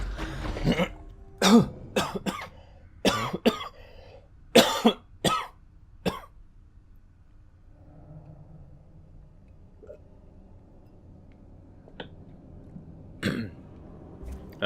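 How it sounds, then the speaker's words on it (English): A coughing fit from someone with something stuck in the throat: a close, loud series of harsh, irregular coughs and throat-clearing bursts, trailing off into a few quieter coughs. "I had something stuck in my throat and I nearly died. And I was just coughing up a storm."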